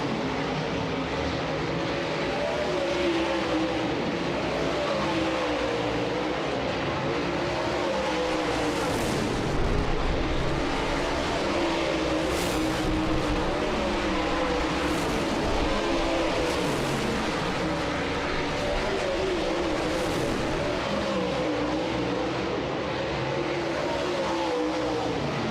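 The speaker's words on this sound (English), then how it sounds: "the drone shot of the cars coming off of corner number 4" World of Outlaws late model race cars roar out of turn four at Sharon Speedway, a dense continuous engine drone from a pack of cars with occasional louder surges, heard from a distance without commentary.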